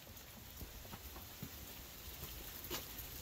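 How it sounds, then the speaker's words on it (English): Hail falls on someone outdoors, a dense, steady patter with scattered sharper taps. The sound is faint and distant-sounding, and no one speaks. "that's hail hitting my head"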